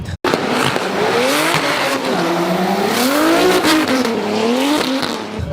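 BMW E46 drift car at a Drift Masters round in Ferropolis, its engine roaring loud and sustained with revs rising and falling and tires squealing, heard from the crowd without talk.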